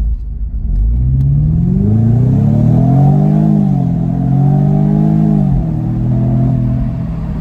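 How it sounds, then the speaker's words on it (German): A Jaguar F-Type P300 with 300 hp, in sport mode, accelerating hard: a loud, close engine note rising steadily through the revs, dipping briefly at a gear change, then climbing again with no talk. "Und jetzt würde ich sagen, beschleunige ich mal schnell durch."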